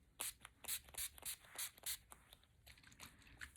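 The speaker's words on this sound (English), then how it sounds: "And then you're just going to go ahead and just spray your whole face." Quick bursts of makeup setting spray misted onto a face, about eight short pumps in a row, close and crisp, then quieter rustling.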